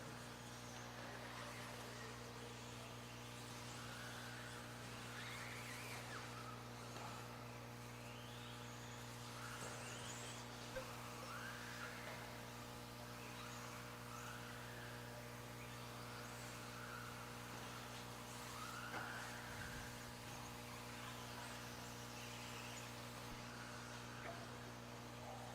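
Nitro RC buggies on spec tires race through a qualifying heat at an outdoor track, their engines a faint, distant, continuous drone with a steady hum underneath.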